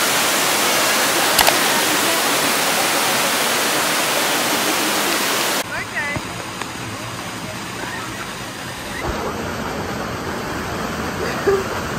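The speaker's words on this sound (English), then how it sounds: "So we're going to a river. Cascade aux Écrevisses." A river waterfall at Cascade aux Écrevisses in Guadeloupe roars as a loud, steady wash of falling water, then continues more softly in the background.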